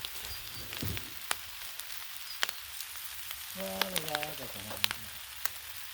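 Collard greens and mushrooms sizzling on a Blackstone griddle, a steady soft hiss dotted with sharp pops and crackles, with a brief voice murmuring partway through.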